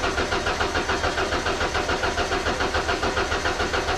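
A boom lift's engine, recently fitted with a rebuilt carburetor and still running poorly, turns over and runs steadily with a close, loud, rhythmic pulsing throb that never lets up.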